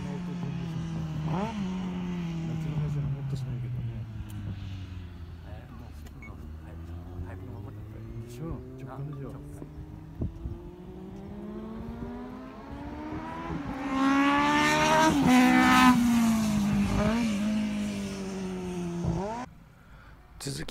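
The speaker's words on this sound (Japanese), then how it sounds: "パラフォーの音が最高だろって言われればまあそれはもう認めざるを得ませんね" A Honda parallel-four motorcycle engine revs up and down with a smooth, high-pitched wail, climbing to a loud scream near the end before dropping off abruptly.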